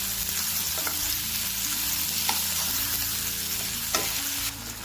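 Green cardamom, cinnamon and cloves are stirred with onions in a hot pan for methi matar malai, giving a loud, close sizzle with a few sharp scrapes of the spoon and no voices.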